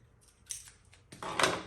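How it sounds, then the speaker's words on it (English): Scissors snip through slack fishing line while spooling a spinning reel, giving a couple of short, crisp cuts close by, the last one louder and slightly longer. "I go ahead and cut off the slack"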